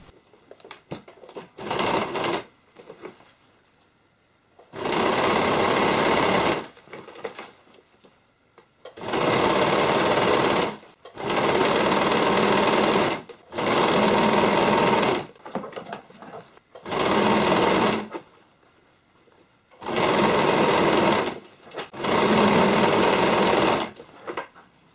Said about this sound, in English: we're going to start sewing on the fold